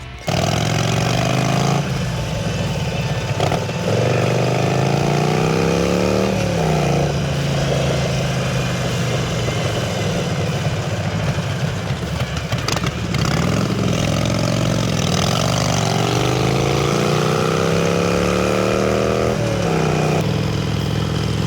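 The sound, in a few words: Harley-Davidson motorcycle riding on the road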